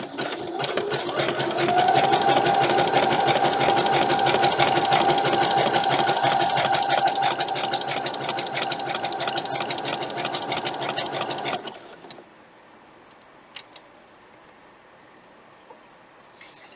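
Sewing machine stitching lace onto a vintage Sunbonnet Sue quilt block, a fast steady mechanical chatter for about twelve seconds, then stopping, leaving quiet room sound with a few small clicks.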